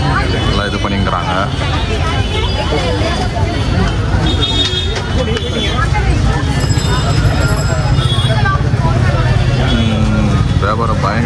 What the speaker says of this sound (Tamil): க்ரௌடு பயங்கரமாக இருக்குது